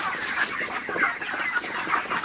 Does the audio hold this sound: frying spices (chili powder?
no